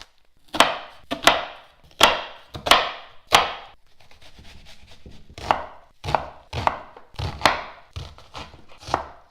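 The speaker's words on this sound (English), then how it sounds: "And then with an onion, I cut it in half first." A knife chops through an onion and other vegetables for soup on a wooden board, with a run of sharp, close, evenly paced cuts, a brief pause in the middle, then quicker strokes.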